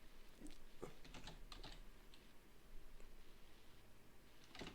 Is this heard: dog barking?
no